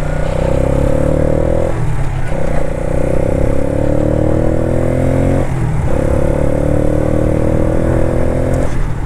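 A Keeway K-Light 150cc motorcycle exhaust rumbles loud and close, a steady throaty drone rising in pitch through several revving gear pulls with brief dips between them, with no talk.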